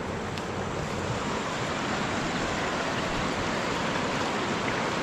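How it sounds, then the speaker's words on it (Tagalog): A big river flowing down from a mining area, its steady broadband rush of water loud and continuous throughout, with no voices over it. "Ito yung malaking ilog guys galing doon sa mining"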